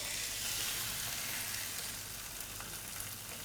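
Pieces of food laid skin side down in hot oil fry with a steady, broad crackling sizzle that holds at an even level, close and on its own with no one talking.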